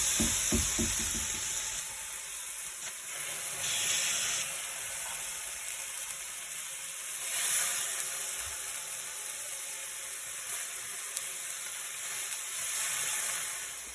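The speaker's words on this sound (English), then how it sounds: "we're going to just sit it on the grill" Seasoned chicken sits cooking on a grill, giving a soft, steady sizzle and hiss across the whole stretch, with a few faint knocks near the start and no voices.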